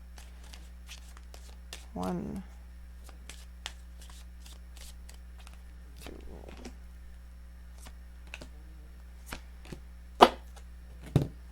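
Romance Angels oracle cards being shuffled by hand, a few soft riffling bursts and light card taps spread across a quiet stretch, close and fairly faint, with a brief spoken word.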